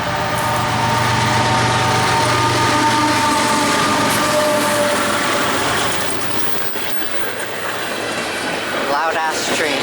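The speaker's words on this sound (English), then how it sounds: "Loud ass train." Train passes close by beside the tracks, a loud, continuous roar and rumble with rattling wagons that eases slightly near the end before swelling again.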